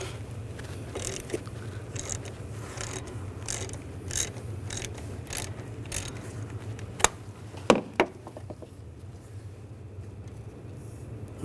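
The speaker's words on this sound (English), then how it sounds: "On some vehicles you may find a bleeder screw right here. We're going to use an 8mm hex socket." Ratchet wrench with an 8mm hex socket loosening a bleeder screw on a 2008-2012 Jeep Liberty 3.7L V6 cooling system, giving a few sharp close clicks near the end against a low steady background hum.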